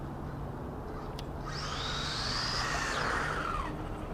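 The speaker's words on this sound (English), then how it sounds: "Let's go full speed and then try and brake." An electric WLToys 12428 1:12 scale 4WD off-road RC truck whines up to full speed with a rising motor pitch, then brakes as the tone drops away, heard close and without speech.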